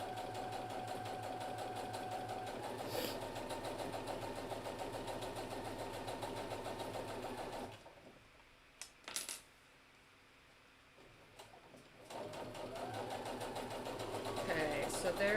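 A sewing machine top stitching beside the zipper of a hidden-zipper pillow, running in a steady close whir, stopping for a few seconds of near quiet with faint clicks, then starting up again.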